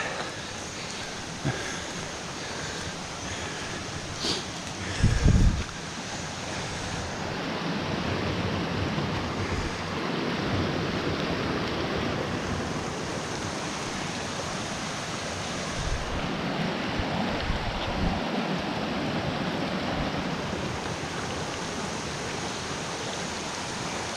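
A small stream near home runs full after 1.2 inches of heavy rain, giving a steady broadband rush of flowing water that holds on throughout, with a brief thump early on.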